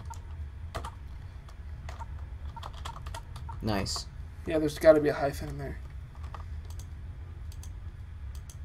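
Computer keyboard keys clicking in scattered taps while someone talks briefly in the middle, the typing soft and close.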